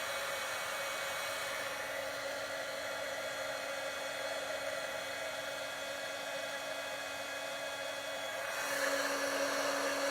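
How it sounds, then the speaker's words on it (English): A heat gun blows on a painted tile, a steady, fairly quiet whirring hiss with a faint hum that runs throughout and swells slightly near the end. "talk amongst yourselves while I use the heat gun"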